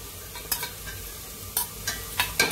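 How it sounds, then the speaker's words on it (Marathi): Ginger garlic paste frying with onions in a pan, a steady close sizzle broken by a few sharp stirring scrapes of the spoon, with no speech. "ह्याच्यात आपण वाटलेली आलं लसूण पेस्ट टाकूया"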